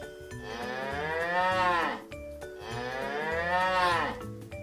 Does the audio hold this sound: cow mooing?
yes